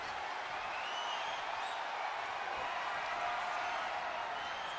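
A video game arena crowd from WWE 2K25 roars and cheers steadily throughout, a dense wall of applause and shouting during a wrestling match with no clear break.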